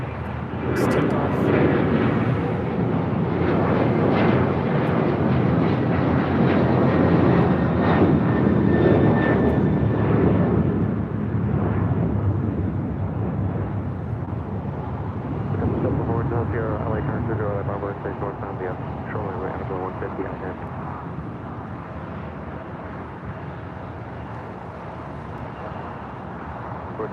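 Airliner landing at LAX, a loud sustained jet engine roar that slowly fades as the plane passes, with people talking over it.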